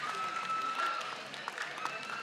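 Crowd applause after a Blow by Blow boxing bout between Arvin Magramo and Joel Lino, a steady wash of clapping at moderate distance throughout, with faint voices mixed in.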